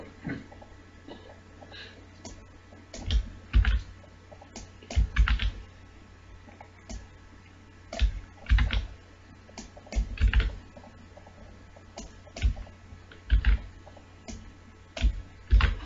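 Keys clatter on a computer keyboard as C code is typed, in uneven bursts of sharp clicks with short pauses between them, close and alone with no talking.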